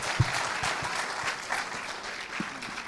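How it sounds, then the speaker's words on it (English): Audience applause at a startup demo day pitch event, a dense steady patter of clapping hands filling the room for a few seconds, with no voices over it. "A round of applause, please, for ForMoja."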